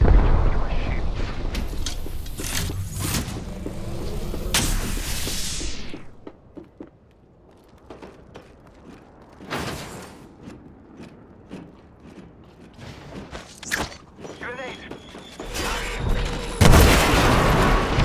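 Grenade detonations in a squad-based shooter game, heavy booming blasts and rumbling debris early on, a quieter lull, then further loud bursts and crackling impacts toward the end.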